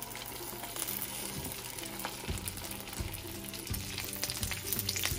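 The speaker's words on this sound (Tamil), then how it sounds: "கொஞ்சம் கொஞ்சமாக எண்ணெயை விட்டு வெண்டிக்காயை முதல் போட போகிறேன்" Okra frying in oil for a Sri Lankan style okra curry, a dense continuous sizzle and crackle close by, with soft stirring knocks under it.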